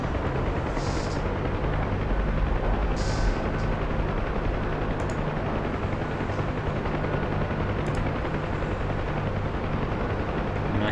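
A UH-1 Huey helicopter engine in the DCS flight simulator throttles up, giving a steady, loud, broadband turbine roar with a whining edge that holds without a break.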